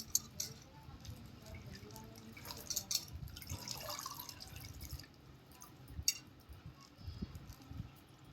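Soft splashing and dripping water with a few sharp clinks as leafy greens are swished and rinsed in a bowl, close and fairly quiet.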